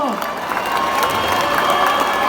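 A crowd claps and cheers together in a brief, busy burst of applause with scattered voices mixed in, at a Dahi Handi event honoring a Govinda troupe's nine-tier human pyramid.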